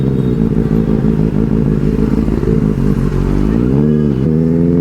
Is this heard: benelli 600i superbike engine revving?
yes